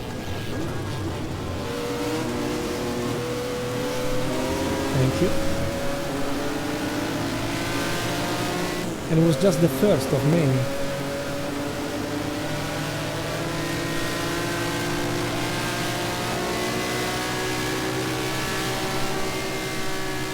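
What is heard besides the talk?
Ferrari 12-cylinder 1.5 litre race car engine revving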